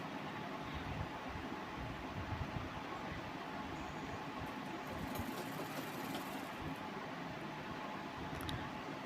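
Sewing machine stitching a blouse runs in a steady, continuous mechanical whir with a fine rapid pulse, close and even throughout with no talk.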